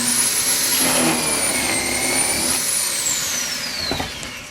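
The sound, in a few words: Kreg Foreman pocket hole machine clamping and drilling a hole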